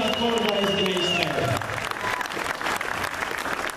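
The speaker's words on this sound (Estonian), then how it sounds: "See mees väärib väga aplausi." An audience at an Estonian championship breaks into sustained applause, many hands clapping together while an announcer's voice carries over the start.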